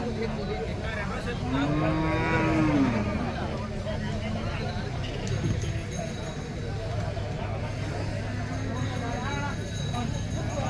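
Cattle low at a busy rural cow market selling heifers and milking cows, a drawn-out moo rising and falling early on and fainter calls later, over constant crowd babble and people talking nearby.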